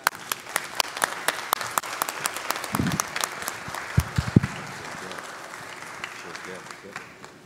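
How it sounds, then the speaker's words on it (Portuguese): Audience applause at a formal ceremony conferring honorary citizenship of Porto Alegre, with crisp, loud individual claps at close range over a steadier crowd patter and some brief voices underneath. "uma salva de palmas, pessoal"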